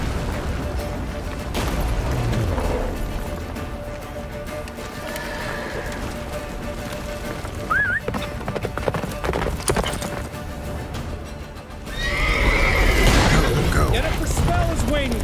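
Roach, a horse in The Witcher 3, gallops with steady clip-clopping hooves over wind and battle rumble, with a short whinny partway through, a louder burst of action near the end, and voices talking over it.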